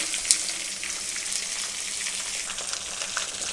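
Okra (bhindi) sizzles as it fries in a hot pan for a curry, a steady hissing crackle with light irregular pops, close by and unbroken, with no voices.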